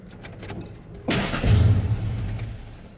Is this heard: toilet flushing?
no